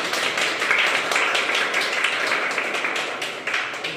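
Applause at the inauguration of a sewing training centre: a crowd claps steadily for several seconds, a dense patter of many hands close by.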